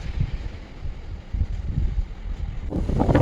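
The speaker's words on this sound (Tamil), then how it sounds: "ஏழாவது மலையில் பயங்கரமாக காத்துங்க பயங்கரமாக குளிர் வேறு அடிக்குது" Strong, steady wind buffets the microphone high on the seventh hill of Vellingiri in Coimbatore, a continuous loud rumbling roar with gusts that swell toward the end and no talk.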